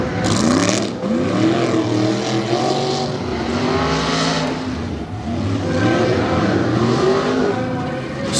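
Tough trucks in a qualifying session at Bloomsburg, Pennsylvania roar and rev hard, their engine pitch sweeping up and down continuously and loudly as they power across the course.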